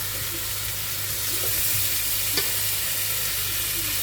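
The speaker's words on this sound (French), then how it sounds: "on vérifie. ma viande, si elle a bien doré ou pas." Meat browning in a pot for a quick tagine, a steady close sizzle and hiss with a low hum underneath and one brief clink of a utensil, and no talking.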